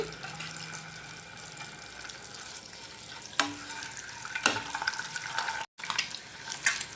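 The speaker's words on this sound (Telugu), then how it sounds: "ఇప్పుడు ఎగ్స్ వేసి ఫ్రై చేసుకుందామండి" Eggs fry in oil dusted with turmeric, giving a soft, steady sizzle at low volume. A couple of sharp utensil knocks punctuate it, and there is a short gap near the end.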